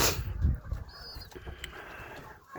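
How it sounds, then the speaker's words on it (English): A pigeon gives a short soft coo nearby in a loft or nesting spot, one brief call over low rustling and light background noise. "There's a pigeon over here, guys."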